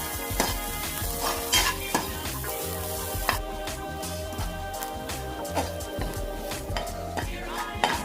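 Grated coconut fries in a pan with a steady close sizzle, broken by regular scraping and clinking strokes as it is stirred, with no one talking.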